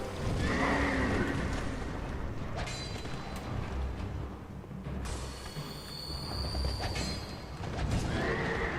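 A horse in the video game Dark Souls 2 neighs and whinnies loudly and repeatedly over a dense, rumbling game backdrop with hoof clatter and mechanical noise, and no voices.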